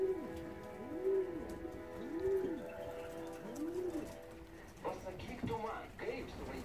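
Racing pigeons coo outdoors in three or four soft, rounded calls spaced about a second apart, fairly close, with a person speaking quietly and light rustling in the background.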